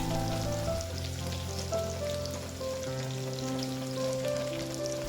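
Crushed ginger fries in oil in a pan for a Kerala-style vegetable stew, a steady, even sizzle with a faint tonal hum underneath, heard alone and at moderate volume throughout.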